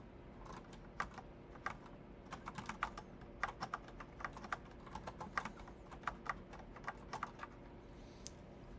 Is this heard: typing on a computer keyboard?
yes